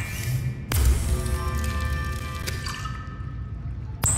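Crafting sounds from the fabricator in the Subnautica video game as it makes water: a sharp onset, then a few seconds of liquid drips and bubbling tones, ending in a short bright click.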